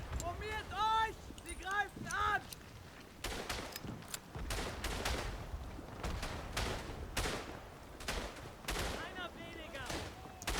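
Gunfire crackles through a World War I battlefield in the video game Verdun, played as a German infantryman: scattered rifle shots and sharp reports, some close and some distant, ring out steadily, with a voice heard briefly near the start.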